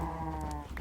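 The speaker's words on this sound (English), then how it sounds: "Let's get off of those noisy cows quickly" Farm animals in the Minecraft world of the ATM8 modpack lowing close by, a steady harmonic call stretching across the short moment with no talk over it.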